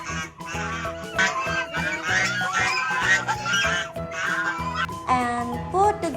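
A toy goose gives a honking cry amid electronic music and sound effects, with bright repeated squawks and melodic tones playing loud and close over several seconds.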